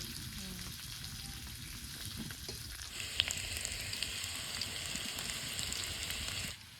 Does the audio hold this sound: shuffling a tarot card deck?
no